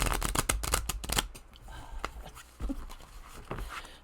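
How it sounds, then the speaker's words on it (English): Tarot cards are shuffled by hand in a quick burst of close, crisp riffles and slaps, then a few sparser card taps and rustles, fairly quiet with no talk. "Let's shuffle again."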